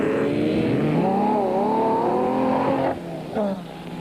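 Off-road race cars tear through a disused quarry on the Sun City 400 desert course in 1991, engines roaring loud and continuous with shifting revs, easing briefly near the end before another surge.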